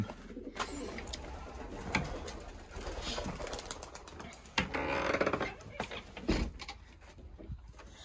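Soft cooing of pigeons inside a loft, low murmuring calls repeating under scattered clicks, knocks and rustling, with a person talking intermittently nearby.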